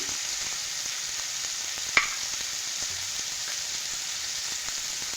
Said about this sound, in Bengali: এইভাবে একটু নুন দিয়ে ভালোভাবে সবজিটাকে কষিয়ে নিচ্ছি